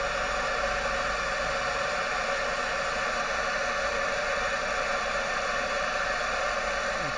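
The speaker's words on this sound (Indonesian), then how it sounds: "dan berikutnya kita akan bunyikan secara bersamaan antara tweeter dan midrange." Car audio tweeter and midrange driver playing together during an in-car tuning session, giving a steady broadband hiss like test noise that holds at an even level throughout with no speech.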